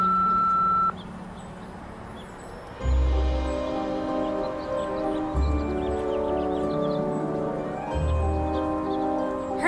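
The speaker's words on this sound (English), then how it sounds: "leave a message after the beep" An answering machine in a Nancy Drew video game gives a single steady electronic beep lasting under a second, then a recorded voice begins speaking over a low background.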